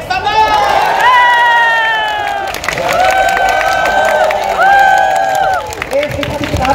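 Street show crowd in Kowloon Cultural District, Hong Kong, cheering and clapping loudly with whoops and bright sustained shouts, swelling in waves over several seconds, with voices mixed in.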